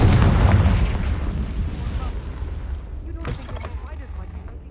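A Confringo blasting spell goes off in Hogwarts Legacy: a heavy, close boom at the start that rumbles and decays, followed by fainter crackling debris.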